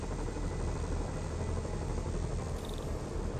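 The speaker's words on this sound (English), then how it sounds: "Bet I can use those helicopters to swing." A helicopter in the Marvel's Spider-Man video game thrums as a steady, close, continuous rotor drone with dense low rumble, holding constant for a few seconds with no talk.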